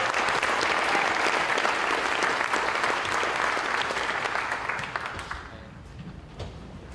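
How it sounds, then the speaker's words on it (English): Warm, steady applause fills a high school athletic awards ceremony for the athletes, many hands clapping together before tapering off into scattered claps. "We'd have one more round of applause for these ladies."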